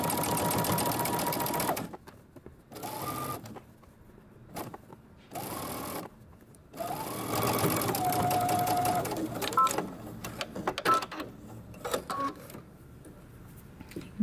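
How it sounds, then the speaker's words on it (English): A sewing machine stitches the hem of a hoodie sleeve in several bursts of steady, close mechanical whirring, separated by brief pauses as the fabric is repositioned. "then we're going to turn it up and we're going to stitch our hem"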